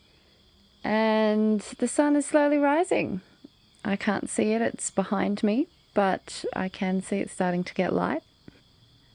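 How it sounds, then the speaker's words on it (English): Steady high-pitched cicada chirring in the Bali jungle runs continuously behind a person speaking calmly throughout, with a few birds tweeting. "The cicadas are chirping."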